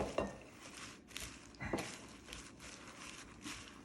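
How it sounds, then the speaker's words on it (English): Shredded tri-color coleslaw mix being stirred with a utensil in a bowl for Top Ramen coleslaw, a steady scraping and rustling with occasional clinks against the bowl. "Let's stir it up."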